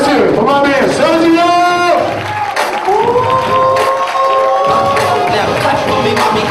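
A comedy-night crowd at a charity foundation event cheers and claps for the first comedian. Whoops and shouted voices rise above continuous applause, loud and close throughout.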